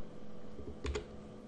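A couple of quick keystrokes on a computer keyboard, the colon key pressed in a terminal session, sounding as two close, crisp clicks against faint room hiss.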